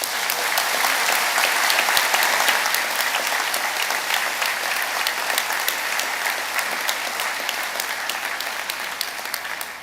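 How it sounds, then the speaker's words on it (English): A large convocation audience in a hall gives sustained, dense applause, a steady wash of many hands clapping at an even level throughout. "I think they deserve a big round of applause too"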